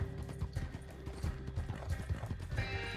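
Horse hooves clip-clop steadily in Red Dead Online, a continuous rhythmic trotting close by with a brief whinny near the end, no talk over it.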